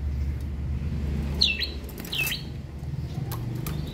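Asian pied starling, a jalak suren, gives a couple of short bright calls near the middle, standing out over a steady low hum and background noise.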